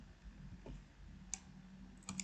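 A few sharp computer keyboard keystrokes while typing an IP address, one isolated near the middle and a quick cluster of two or three near the end, faint against a low room hum.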